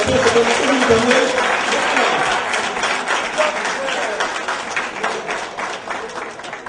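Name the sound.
audience applauding the doctors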